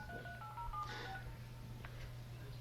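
Keypad tones sound as a number is dialed on a speakerphone, a few short electronic beeps in quick succession, faint and close, over a low steady hum.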